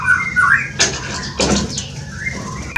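Several sharp, squawking calls from a long-tailed magpie-robin in quick bursts, fairly close, with a chirpy note near the start and end.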